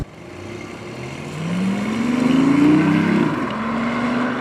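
A BMW i8 hybrid in sport mode, its petrol engine working with electric assist, pulls steadily and rises in pitch as it accelerates, then settles into a sustained drone. The sound is close, with cabin road rumble underneath.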